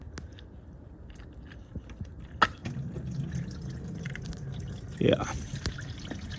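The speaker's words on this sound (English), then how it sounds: "And you see all the brownish water there. So let it drain" Brownish coolant drains from the radiator of a 2002 Mitsubishi Galant, a steady trickle and patter under a voice, with a few sharper drips and clanks.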